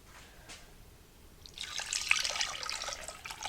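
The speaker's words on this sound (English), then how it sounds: "we're going to pour this over the roast and the onions" Liquid poured over a roast and onions in a slow cooker, starting faint and swelling into a splashing, trickling stream that continues to the end.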